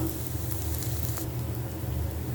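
Ingredients for an eggplant bharta frying in ghee in a pan, a steady close sizzle with soft crackling pops, no voices.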